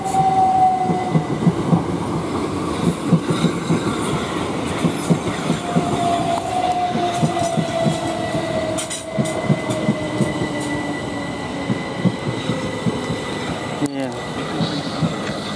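A Southern Class train departing Clapham Junction rumbles past continuously with rhythmic clacking of wheels over rail joints and occasional high squealing, loud and close throughout.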